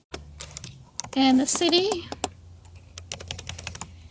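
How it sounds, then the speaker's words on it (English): Rapid clicks from a computer keyboard as an address is typed, close and irregular, with a brief stretch of speech partway through. "I'm going to go ahead and type that in"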